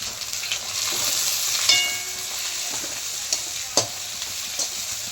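Chopped mint hits hot oil in a frying pan, hissing in a steady sizzle as a spoon scrapes and stirs, with a few sharp clinks against the pan.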